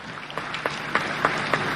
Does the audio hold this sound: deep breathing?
no